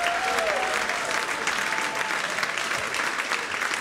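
An audience applauds during a stand-up comedy special, a dense, steady roar of clapping filling the room at close range, sustained throughout with a faint whistle-like tone near the start and no talking.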